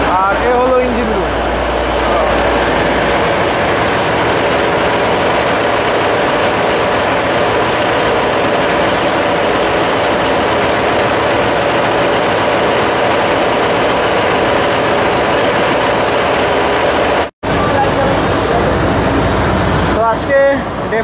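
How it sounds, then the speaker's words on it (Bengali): Inside the engine room of the MV Sundarban-12, a passenger river launch on the Jhalokathi to Dhaka route, a loud, steady mechanical drone fills the space. It runs continuously with only one brief dropout. "আর এ হলো ইঞ্জিন রুম।"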